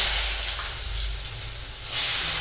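Curry leaves hit hot oil for tempering after mustard seeds have crackled, giving a loud, steady, close sizzle and hiss that swells again near the end.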